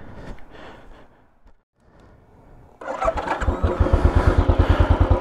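A 2013 Royal Enfield Classic 500 single-cylinder motorcycle cranks and fires up after a quiet pause, settling into a loud, close, rhythmic thumping idle.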